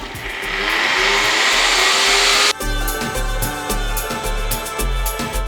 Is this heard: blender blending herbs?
yes